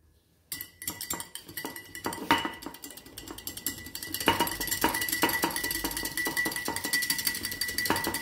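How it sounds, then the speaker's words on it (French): A whisk clinks rhythmically against a bowl, close and bright, as a raw tuna marinade seasoned with pepper is beaten with olive oil. It starts after a short silence and picks up pace partway through. "Et nous allons monter tout ça avec de l'huile d'olive."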